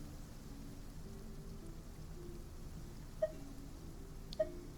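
Light rain falling in the Genshin Impact video game, a soft, steady hiss of rain with a low background hum and two faint, brief drip-like accents, no talking.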